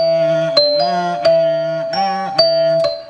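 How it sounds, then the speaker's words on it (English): Quick little bell tones for a hip-hop beat ring out in a steady rhythm, bright chiming hits repeating every half second or so, loud and alone with no voices. "That was like some little quick little bells just to find a vibe"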